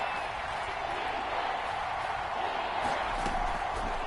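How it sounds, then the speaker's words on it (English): Stadium crowd in a Madden football video game, a steady broad roar of cheering that swells slightly toward the end, running under a commentator's talk. "Crowd getting in it a bit already."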